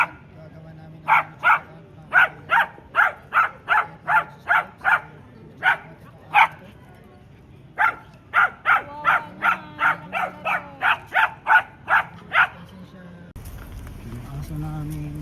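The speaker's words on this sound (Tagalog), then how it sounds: "Maingay na aso rito sa lahat na ng tinatahol." A dog barks steadily in long runs of sharp, evenly spaced barks, close and loud, pausing briefly before another burst, with a low engine-like hum underneath and a rumbling noise at the end.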